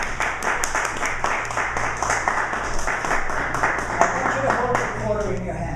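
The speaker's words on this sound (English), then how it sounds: "Give her a big round of applause." Audience applause at a Toastmasters speech, with quick, fairly rhythmic clapping of moderate loudness over a low steady hum, while voices talk over it throughout.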